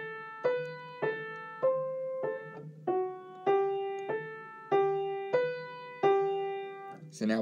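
Single-line melody of a descending fonte sequence, about ten evenly spaced plucked notes each decaying before the next, quiet and clear with no talking.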